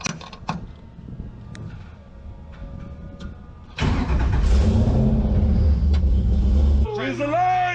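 A vehicle engine, being driven for its first test drive after a rebuild, starts up loud and close and runs with a steady rumble, following quieter sounds earlier on, with voices partly over it.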